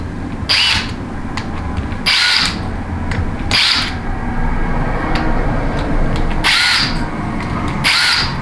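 A power drill runs bolts down on a 62TE transmission solenoid pack in five short, loud whirring bursts at uneven intervals over a steady background drone.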